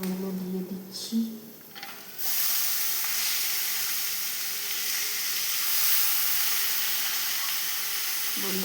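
Chow mein noodles dropping into a pan of fried potatoes, setting off a loud, steady hiss of frying that fills the scene after a brief rustle and clatter.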